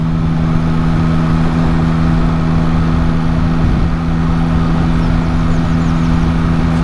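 A 2022 Yamaha MT-09 motorcycle ridden along a road in second gear at about 30 mph, with a steady, loud engine drone and heavy wind roar running continuously throughout.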